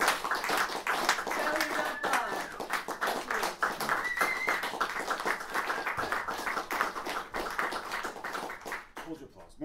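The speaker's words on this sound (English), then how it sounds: "Hold your applause." Audience applause after band introductions at a live music show: dense, continuous clapping from a modest crowd at moderate distance, holding steady for several seconds before thinning out at the end.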